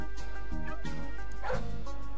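Small dog barking and yipping in the My Boyfriend video game while being walked, a few short yips over a steady droning game soundtrack, moderately loud.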